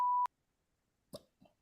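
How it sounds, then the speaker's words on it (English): A single steady electronic beep, loud and clean, lasting about a quarter second at the start, followed by silence and then a couple of brief soft noises. "It beeped for everyone else."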